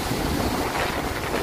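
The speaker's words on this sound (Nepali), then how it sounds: "यहाँ हेर्नुहोस् यो पानी कुदिरहेछ।" Floodwater from the swollen Teesta river rushes over a road as a loud, steady broadband roar mixed with wind buffeting the microphone, with no voices.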